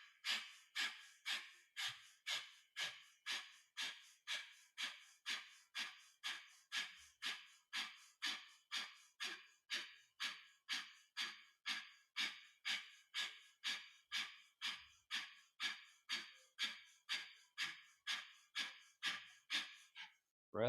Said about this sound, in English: Breath of fire, it's using the belly.